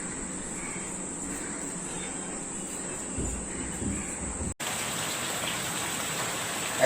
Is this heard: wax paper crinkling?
no